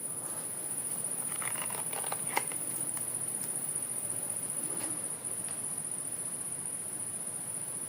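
Crickets chirp at night inside an abandoned clinic, a continuous high shrill trill that holds steady and fairly faint, with a few soft taps and shuffles underneath and no talking.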